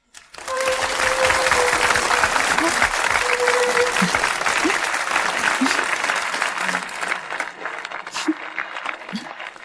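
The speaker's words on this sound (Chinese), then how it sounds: "现在，让我们用热烈的掌声欢迎诺贝文学奖的获得者郑天爱女士" Loud, sustained applause from a large audience greets a Nobel literature prize winner at a ceremony, a dense steady clatter of clapping that starts abruptly and holds for several seconds.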